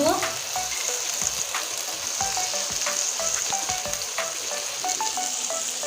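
Taro stolons and onion frying in a pan, a steady loud sizzle with light stirring scrapes and clicks throughout, no talking.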